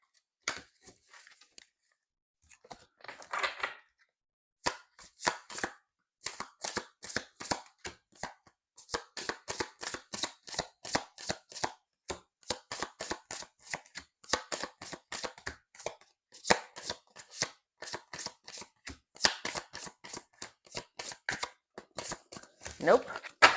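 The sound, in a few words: shuffling a deck of cards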